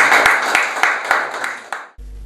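A crowd at a community gathering claps in welcome, a dense, loud burst of applause with sharp individual claps standing out, which cuts off abruptly near the end.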